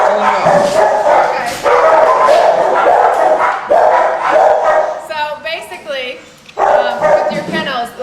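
Several dogs in rescue kennels bark and yip loudly in repeated bursts, with whimpers in between and a voice talking over them.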